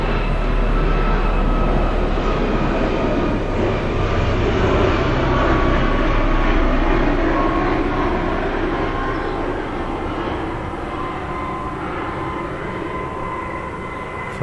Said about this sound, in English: The helicopter flying over,